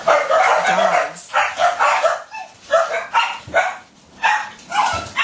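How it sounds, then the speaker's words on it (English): Dogs barking loudly and continuously close by, overlapping bursts of harsh barks with short gaps, no talking heard. "Dogs."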